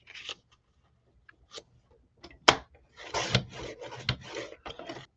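Paper trimmer cutting cardstock pieces for a handmade birthday card, heard as short separate swipes and clicks at first, then longer close, scraping cutting strokes alone with no talk.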